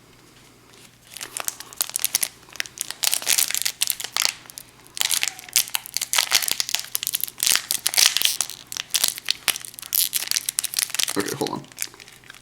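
Crinkly plastic of a Magic: The Gathering Innistrad booster pack wrapper being torn and crumpled open, busy bursts of rustling and ripping throughout, close up, with brief talking over it.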